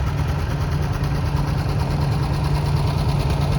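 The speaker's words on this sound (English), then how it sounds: "'53 Farmall Super F, owned by Gavin Bendig of Erie." A 1953 Farmall Super F tractor engine running at a tractor parade, a steady close throbbing idle with a low rhythmic pulse, continuous and without speech.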